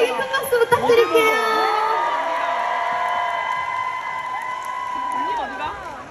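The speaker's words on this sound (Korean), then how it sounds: "큰 박수 부탁드릴게요" A concert audience cheers and shrieks loudly for a guest singer at a K-pop solo concert, with high excited screams and crowd roar sustained throughout and no one speaking.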